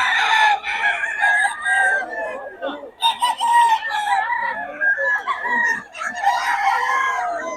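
A stag rooster crows repeatedly up close, its long cock-a-doodle-doo calls ringing out over a few clucks, while people talk faintly in the background.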